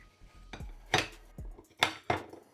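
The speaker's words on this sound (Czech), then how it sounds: "tak vezmeme mražené jahody. Asi tak 50 až 70 gramů. Trošku je nakrájíme." A knife slicing through frozen strawberries gives four or five sharp, hard knocks and crunches at an uneven pace, quiet and close, with no talking.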